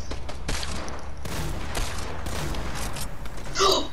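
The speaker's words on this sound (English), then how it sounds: "I'm just shooting the handgun." A handgun firing in the video game Fortnite Battle Royale: a few loud, broad cracks spaced out over a few seconds against steady game background noise.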